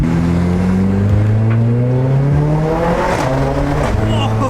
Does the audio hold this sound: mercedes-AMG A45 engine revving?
yes